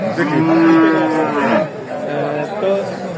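A heifer at a cattle market in Talgachhi, Sirajganj lets out a long, loud moo close by, followed by a second lower moo, with faint crowd chatter in the background.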